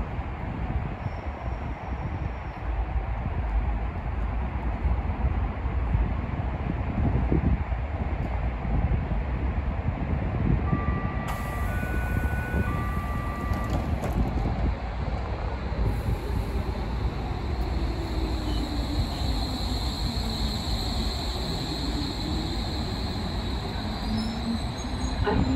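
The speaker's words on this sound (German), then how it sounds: "Eingefahrener Zug auf Gleis 2, S42, Ringbahn über Südkreuz, Neukölln, Ostkreuz." A Berlin S-Bahn Ringbahn train stands at Innsbrucker Platz station with a constant loud rumble and rail hiss. A station chime and high-pitched electrical tones come in partway through, and there is no talk.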